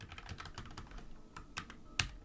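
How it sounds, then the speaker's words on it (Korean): Keys tapped on a computer keyboard while selecting and running Python code with Shift+Enter, a quick string of light clicks with a sharper final keystroke near the end, close and alone. "작성된 코드를 선택하고 Shift Enter를 눌러서 대화형 창에서 실행합니다"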